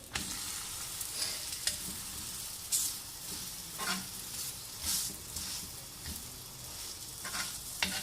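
A yogurt paratha fries in desi ghee on a pan, a soft continuous sizzle punctuated by repeated bursts of louder crackle and clinks of a spatula as it is pressed and moved.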